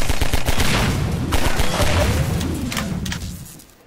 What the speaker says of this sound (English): That's how you waste your pistol ammo.